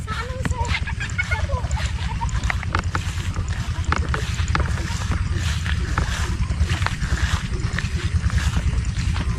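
A boat engine runs loud and steady with a low rumbling drone, while a voice talks now and then over the motor noise.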